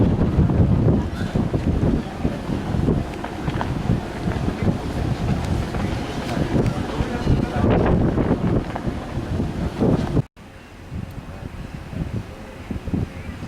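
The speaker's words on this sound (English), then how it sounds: "Sailing away from St Petersburg." Cruise ship sailing away from St Petersburg, heavy wind buffeting the microphone over a low rumble of engine and water, dropping abruptly to a calmer steady hum near the end.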